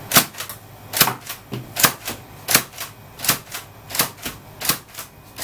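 A Nerf Nailbiter blaster fires foam darts in quick succession, eight sharp snapping shots at a steady, fairly even rhythm, close and clear with no talking.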